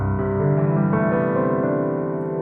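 A left-hand piano accompaniment figure from a piano piece, a steady flowing broken-chord pattern with sustained harmonic tones, played close and clear without talking.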